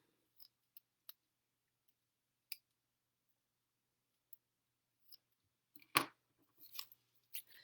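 Scissors cut a knotted ribbon in a papercraft session, a few faint, sparse snips spread across a quiet stretch, with a louder rustle and handling sounds near the end.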